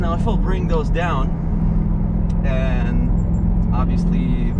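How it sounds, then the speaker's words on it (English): A muted car engine drone heard from inside the cabin with the windows closed, a steady low hum running under a person talking close to the microphone. "obviously the sound of the engine is way more subdued"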